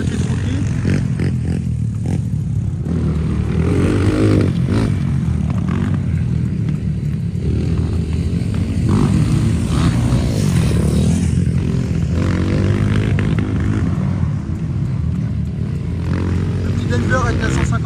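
A 150 cc tuned dirt bike engine revs and drones continuously while its carburetor is adjusted. The sound is loud and close, and people talk over it.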